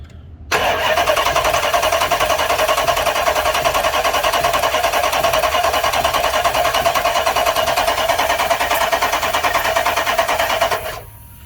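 A 2013 Dodge Charger with a 5.7 Hemi V8 and a misfire fault cranks over on the starter for about ten seconds, a steady loud churning whir that stays even and never catches, then stops abruptly.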